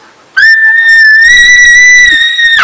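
One person whistles a single sustained, loud, close tone lasting about two seconds, alone, with a slight pitch rise partway through.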